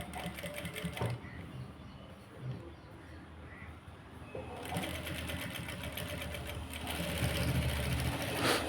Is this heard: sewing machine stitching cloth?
yes